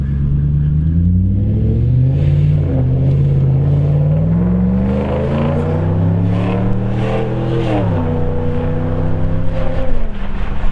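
Volvo S80 V8 on a test drive accelerating hard, its deep engine note rising and climbing through gear changes, heard from inside the car as a loud, continuous rumble with no talking.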